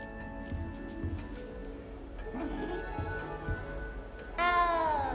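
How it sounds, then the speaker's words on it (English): A frightened little cat in the Hogwarts Legacy castle lets out a clear, drawn-out meow near the end, rising out of quiet game ambience with soft scattered clicks and rustles before it. "You don't need to be frightened, little cat."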